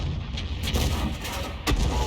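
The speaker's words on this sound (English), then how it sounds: "And a nice kill shot to win the game." Artillery shot from an FV304 self-propelled gun in World of Tanks, a loud, close boom that fills the short clip, with a second sharp blast near the end.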